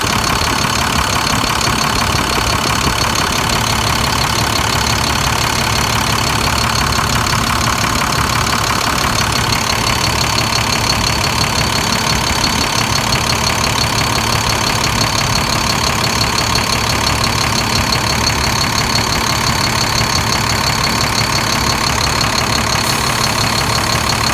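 A heavy International DT466 diesel engine idles loudly and continuously, shaking a bit, a steady low rumble with a clattering rhythmic knock and no voices.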